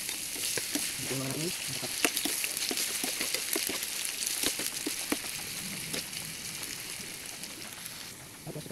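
Potatoes frying in a pan make a steady, broadband sizzle that runs throughout. Brief clatters come and go, and a voice speaks briefly over the frying.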